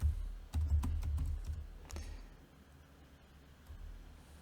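Keys clatter on a computer keyboard during coding, a quick burst of close, distinct taps up front, then sparser strokes after a pause, no talk.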